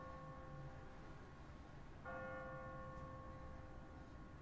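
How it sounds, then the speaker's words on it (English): An automatic church bell on a timer in The Walking Dead video game tolls at twenty past the hour, a sustained ringing tone struck again midway over a dull ambient rumble. "What kind of church bell goes off at 20 past the hour?"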